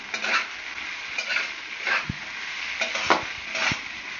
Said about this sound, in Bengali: এটাকে আমি সমানে এখন নাড়াচাড়া করবো